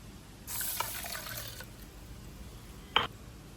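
Water poured from a tap over rice in a bowl to soak it for Thai mango sticky rice: a soft, steady splashing stream for about a second, then quiet, with a single sharp clink near the end.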